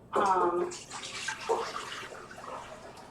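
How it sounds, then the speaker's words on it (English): Water pours from a container into another, eight cups at a time, for a food-coloring dye project: a close, splashing gurgle with a rising filling tone at first, then a softer, continuing trickle. "Putting 8 cups of water into each of those."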